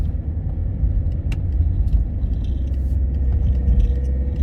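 Heard from inside a moving car in traffic as it overtakes a bus: a loud, continuous low engine and road rumble with small rattles and no talking.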